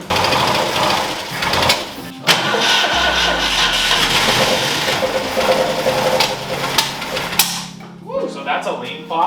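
An abandoned Ford Mustang project car that sat for years sputters and rumbles to life with a sharp lean pop, then rough, uneven running and clatter. Voices talk over the engine.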